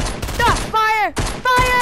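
Gunfire in the Fortnite video game: a quick burst of shots mixed with shouting voices and tonal game effects, loud and close.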